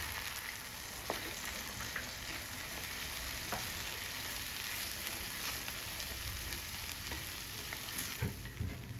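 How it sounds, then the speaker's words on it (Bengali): A ground paste of cashew, poppy seed, fennel and a little rice fries in oil, a soft, even sizzle running throughout with occasional faint ladle taps, fairly quiet and without speech. "দেখুন মশলাটা ভালো করে কষিয়ে প্রায় তেল বেরিয়ে এসছে"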